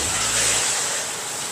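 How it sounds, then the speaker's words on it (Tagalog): Water poured into a pot of condensed milk simmering in a can, a brief steady hissing rush that fades out after about a second. "So, dagdagan natin ng tubig."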